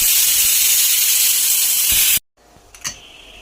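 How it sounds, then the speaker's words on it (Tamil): Pressure cooker with brinjal inside lets off a loud, continuous steam whistle hiss that cuts off abruptly after about two seconds, followed by quieter hissing and a short sharp burst. "போட்டு குக்கர் மூடி ஒரு 2 விசில் விட்டால் போதும்."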